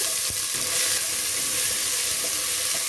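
Large onions hit hot tempering oil with curry leaves for Chettinad-style country chicken, producing a dense, continuous, close-up sizzle and crackle that stays loud and even from start to finish, with no speech.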